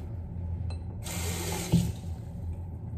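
A bathroom sink tap opens about a second in and runs steadily while someone brushes their teeth, a close, continuous water rush with a small clack partway through.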